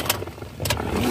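A car engine turns over and catches, then settles into a steady idle, close and fairly loud, all within about a second.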